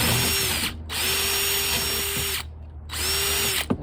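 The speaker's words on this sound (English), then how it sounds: "Drilled the hole." A power drill bores a hole into a plaster wall, loud and close, its steady whine running in two long bursts with a short pause between, then starting again and cutting off at the end.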